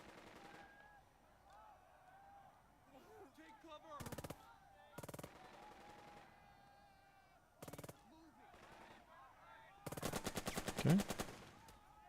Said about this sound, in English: someone's shooting at the Germans as they move across the open there